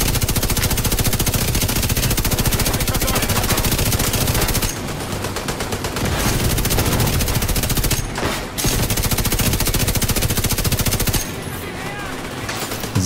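In the video game The Division 2, a placed turret fires its machine gun in long, loud, rapid bursts with only brief pauses, with dense continuous gunfire filling almost the whole stretch.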